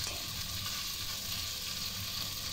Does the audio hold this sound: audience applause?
no